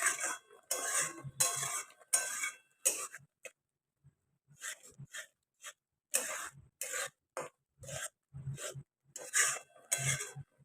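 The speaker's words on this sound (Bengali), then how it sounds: "কাজু কিশমিশটা বেশ কিছুক্ষণ নাড়িয়ে চাড়িয়ে নিয়ে" Cashews and raisins being stirred in a pan for a pineapple chutney, a run of short scraping bursts of a spoon against metal separated by brief silences, with a gap near the middle, fairly quiet and close, no speech.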